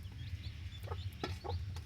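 Native Siruvidai country chickens kept for breeding give several short, close clucks in quick bursts over a steady low background hum.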